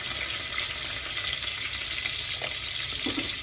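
Garlic and ginger sautéing in a hot pan, a steady bright sizzle running evenly throughout with a few faint clinks near the end.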